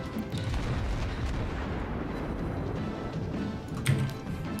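Warship guns firing HE shells in World of Warships, the Königsberg cruiser in naval combat, heard as a continuous low rumbling boom with a heavier thud near the end.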